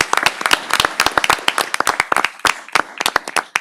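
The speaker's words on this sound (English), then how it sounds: "Let's give them one more round of applause." A crowd gives a round of applause, dense rapid clapping from many hands, loud and close, with no talking.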